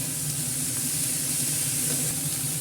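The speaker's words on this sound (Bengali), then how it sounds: "আর এটা আমি ভালো করে নেড়ে কষতে দিয়ে দেবো" Chopped tomatoes with meat masala frying in a pan, giving a continuous soft sizzle with faint stirring underneath, steady and close throughout.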